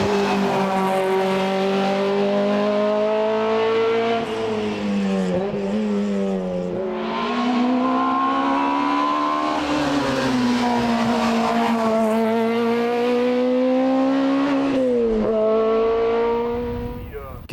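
An iconic Volkswagen Scirocco historic rally car drives at speed, its engine loud and close, revving up and down through gear changes with rising and falling pitch, while a voice talks over parts of it.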